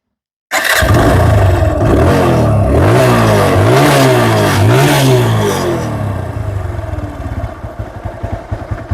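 A TVS Apache RTR 160 4V motorcycle starts abruptly, close and loud, then revs repeatedly in rising and falling surges before settling to a rough idle.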